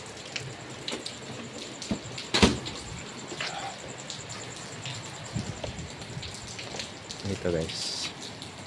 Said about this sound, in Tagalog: Umulan kasi guys, kaya nagpayong tayo.